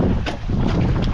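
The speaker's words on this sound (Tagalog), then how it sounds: "Ito lang medyo lumakas yung hangin." Strong wind gusts roar against a boat at sea, a loud, continuous rushing buffet with brief flutters, close to the microphone.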